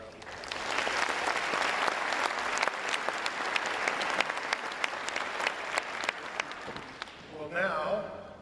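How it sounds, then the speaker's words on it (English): Sustained audience applause fills a graduation ceremony hall at a business school's winter commencement, a dense steady patter of many hands that fades out near the end as a voice begins. "Let's give all of them a round of applause."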